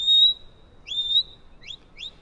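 A shepherd's whistled commands to a sheepdog: three or four sharp, high tonal whistles, the first two held and sliding, the last ones quick chirping bursts, clear against a quiet outdoor background with no talk.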